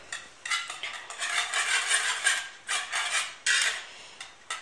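A metal whisk rakes through hot cooked couscous grains with quick, repeated scraping and rustling strokes against the bowl, close and continuous with short pauses, no voices.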